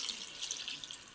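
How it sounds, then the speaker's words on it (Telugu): Water pours into a pot of tamarind, garlic, pepper, coriander, cumin, curry leaves and turmeric for rasam, a soft continuous splashing trickle heard alone and up close. "ఇప్పుడు వాటర్ పోసి"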